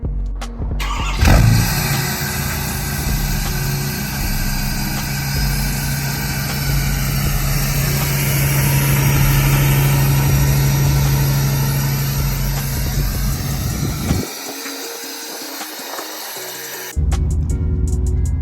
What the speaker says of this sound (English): let's go ahead and start with a cold start